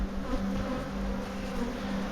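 African honeybees hum and swarm around a hive built inside a pool pump, a steady close-up drone of many wings holding at even loudness with no voices.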